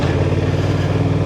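A 2024 Honda Transalp 750 with its 270-degree-crank parallel twin rides an off-road trail at an OHV park, giving a steady, close, loud engine drone with a throbbing low rumble and no talk.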